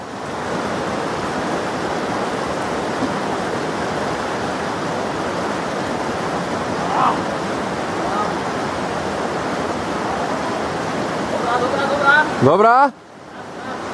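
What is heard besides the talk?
people wading across the Soča river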